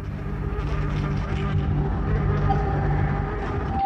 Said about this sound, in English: And then we heard the wasps.